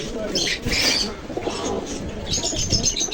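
Pigeons coo at a busy pigeon market in Khulna, with low murmuring coos and a few higher chirps in a noisy crowd where people talk throughout.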